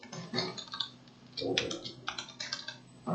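Commands typed on a computer keyboard while configuring FTP settings, bursts of close, sharp keystrokes with short pauses between them and no speech.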